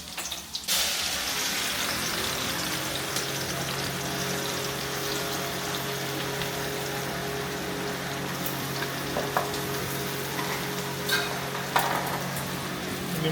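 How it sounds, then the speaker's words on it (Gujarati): Green chilies frying in hot oil, a steady loud sizzle that begins abruptly and holds evenly throughout, close up, with a low hum underneath and a few faint clicks. "હા તેલ મૂકી દીધું છે, તો તેલમાં નાખી દીધા છે મરચાં"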